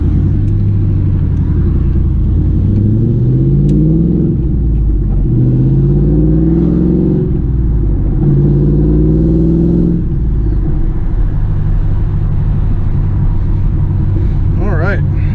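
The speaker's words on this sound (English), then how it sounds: "with this new spiral mufflers on there, man, this thing sounds pretty nice" A 2001 Pontiac Trans Am engine with spiral mufflers rumbles loudly through its exhaust, revving up several times in deep, throaty surges before settling into a low idle.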